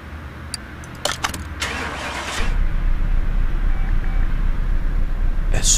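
A car engine starts in Car Mechanic Simulator 2018: a few clicks and a brief cranking burst, then the engine settles into a steady, loud idle hum that continues to the end.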